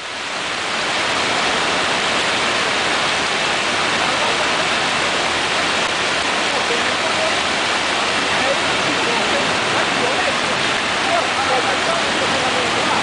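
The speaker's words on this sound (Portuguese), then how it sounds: "Debaixo de toda essa água, olha o carro sendo levado" Rushing floodwater sweeps a car away, a loud, steady roar of churning water that fills the whole stretch without pause.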